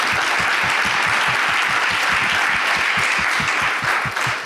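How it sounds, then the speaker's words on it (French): An audience at a conference of allies applauds, dense sustained clapping from many hands with a steady rhythm, loud and continuous for several seconds, with no talking. "On peut les applaudir."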